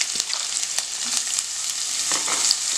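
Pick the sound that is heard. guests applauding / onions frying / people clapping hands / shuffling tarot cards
onions frying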